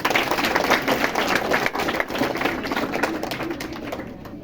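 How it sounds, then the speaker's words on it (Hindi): An audience at a school or coaching class event gives loud, sustained applause, a dense wash of clapping that holds steady before easing off at the end. "एक बार जोरदार तालियां।"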